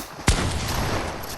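A single sharp gunshot cracks out in the video game Fortnite, standing out loudly over a steady wash of game noise.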